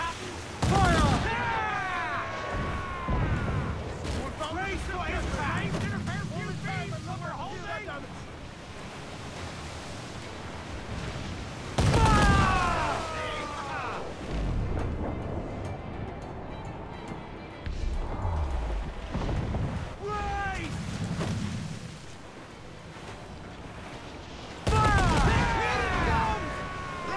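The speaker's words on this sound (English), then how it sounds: "They are firing, sir! I hear some shot, Captain! Fire!" Ship cannon fire in Assassin's Creed Black Flag booms in a few heavy broadside bursts over a steady wash of ocean waves and wind, while people talk excitedly throughout.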